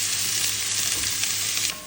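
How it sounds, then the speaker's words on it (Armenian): Chopped onion sizzles in olive oil in a pan, a loud, close, continuous crackle that drops off slightly at the end. "Հիմա լցնելու եմ ձիթապտղի յուղ, որպեսզի տապակեմ"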